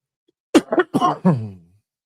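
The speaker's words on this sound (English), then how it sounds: "Sorry for coughing in your ear." A single close burst of coughing, three or four rough hacking coughs in quick succession, loud against silence.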